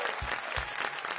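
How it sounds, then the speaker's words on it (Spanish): Dense applause from a TV game show studio audience on Pasapalabra, steady and continuous throughout, with a few low thumps underneath. "Un aplauso para él."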